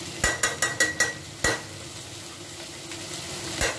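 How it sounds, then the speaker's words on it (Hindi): Ghee goes into dalia cooking in a pan: a quick run of sharp spoon taps on the pan, one more knock, then a soft, steady sizzle close by. "घी डाल दीजिए"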